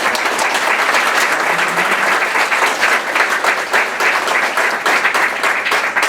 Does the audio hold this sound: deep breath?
no